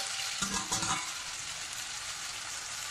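Ridge gourd cooking in a pan for chutney, a steady bright sizzle with a few quick stirring scrapes near the start, close and fairly quiet.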